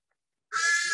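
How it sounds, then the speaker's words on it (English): A crow at a wildlife centre gives one sudden, harsh call that begins halfway through and holds loud and close to the end, with silence before it. "The crows are in here, I believe. Yes, yeah, you can hear them."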